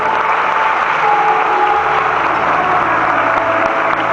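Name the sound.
applause for people being baptized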